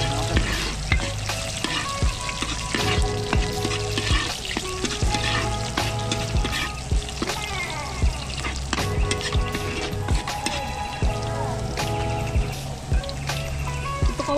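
Igado fries in a pan and is stirred, with loud steady sizzling and sputtering and repeated scraping of the spoon against the pan, close up and with no speech.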